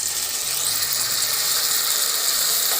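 Tomatoes tipped into a pan of hot, browned onions while cooking African rice and beans, giving a loud, steady, broad sizzle that holds from start to finish with no speech.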